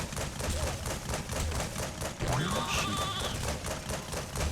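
A sheep bleats in the video game Skylanders Swap Force, a short wavering cry rising over steady game music and shooting effects.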